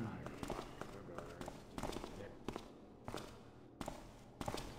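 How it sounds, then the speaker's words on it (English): Footsteps of an archer guard patrolling in the stealth video game Thief, a Rockpool fan mission, sounding as a run of irregular soft steps over a dark ambient game backdrop. "You can hear the archer's footsteps there as well."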